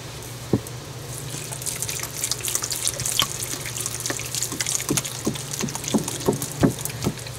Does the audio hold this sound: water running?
yes